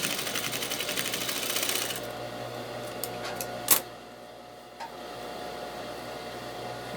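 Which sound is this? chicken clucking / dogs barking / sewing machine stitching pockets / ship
sewing machine stitching pockets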